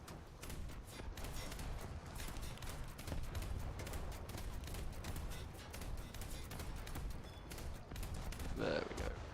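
Sustained bursts of naval gunfire in a War Thunder battle, dense rapid shots mixed with booms running continuously at steady loudness, with a brief burst of a higher noise near the end.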